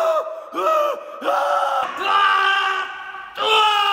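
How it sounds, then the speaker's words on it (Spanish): A man in a gym lets out several loud, drawn-out straining yells in a row, each rising and holding, close and echoing slightly in a large room. "El que grita mucho."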